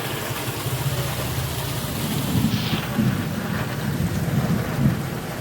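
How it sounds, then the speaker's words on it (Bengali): Very heavy rain pours down in a dense, constant roar with low thunder rumbling underneath throughout, close and loud, with no voices. "খুব জোরে বৃষ্টি, প্রচণ্ড জোরে বৃষ্টি পড়ছে।"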